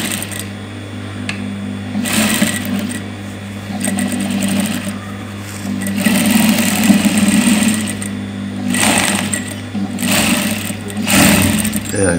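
A sewing machine stitches a djellaba, running in bursts of rapid mechanical whirring with brief pauses and restarts, close and loud with a steady hum underneath.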